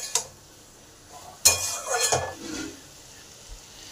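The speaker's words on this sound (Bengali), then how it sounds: "হলুদ দিলাম পরিমাণ মতো, হলুদটাকে ভালো করে মিশিয়ে দিই" A spoon stirs turmeric into lentils in a metal cooking pot, giving a sharp clink at the start, then a louder scraping, clattering stretch of stirring, and a faint final tap.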